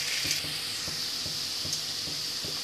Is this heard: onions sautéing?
yes